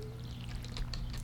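Crops get watered in the Stardew Valley video game with a short, soft pouring splash from a watering can. The sound is brief and steady.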